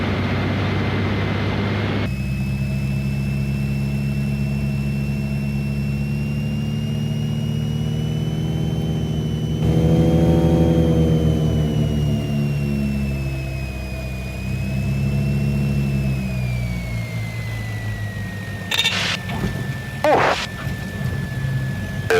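An airplane coming in to land on a short runway close to a mountain, its engine droning steadily and loud throughout, the pitch rising and swelling midway before easing off, with a few brief knocks near the end.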